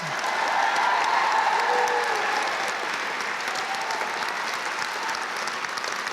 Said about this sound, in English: Would you join me in one more round of applause for all of our students,